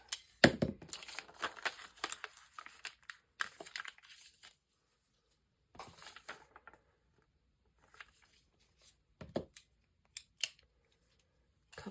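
Magazine paper being sliced with a large blade and torn in short, crisp bursts, with rustling and crinkling between cuts and a few quiet pauses.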